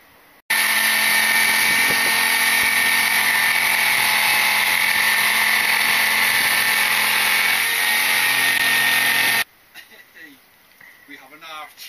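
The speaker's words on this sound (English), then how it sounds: "Just going to have to use the hacksaw, jigsaw." A jigsaw cuts a campervan panel with a loud, continuous rasping buzz for about nine seconds, then stops abruptly, leaving quieter handling noises and faint voices.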